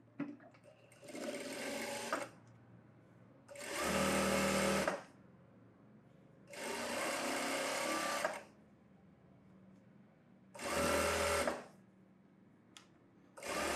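A sewing machine stitches a lightly folded edge of saree fabric in short bursts, running loud and close for one to two seconds at a time with quiet pauses between, and no speech.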